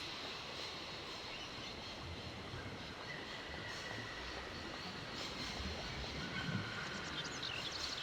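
A train rolls along in the Syberia adventure game, a steady rumbling hiss of wheels on rails with faint metallic tones, constant and moderately loud with no voices.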